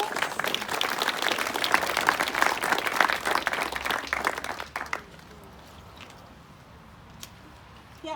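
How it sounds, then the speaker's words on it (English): An outdoor parkrun crowd in Oxford applauding the volunteers, dense enthusiastic clapping for about five seconds that drops away to open-air ambience and a few stray claps. "can we start with a big thank you to all our volunteers"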